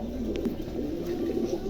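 A pigeon coos softly and continuously at close range, one male bird held at a market stall.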